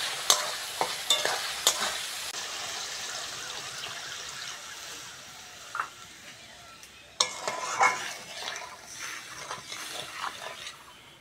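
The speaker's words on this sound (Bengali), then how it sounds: "ঝোলটা ভালোভাবে ফুটে গেছে।" Prawn and pointed gourd curry simmering in a pan, a steady soft bubbling and sizzle with occasional spoon clinks and stirring scrapes, close up and fairly quiet, no voices.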